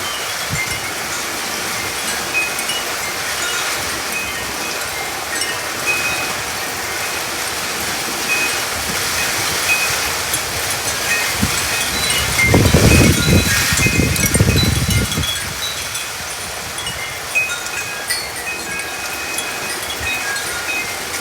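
Heavy rain and gusting wind during a Phoenix, Arizona haboob dust storm with lightning: a steady loud roar of downpour and wind buffeting, swelling into a stronger low rumbling gust midway before easing back.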